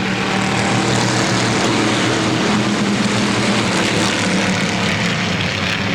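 A pack of race cars thunders around Motordrome Speedway in 1992 just after the green flag, a loud, sustained, close engine roar with no break.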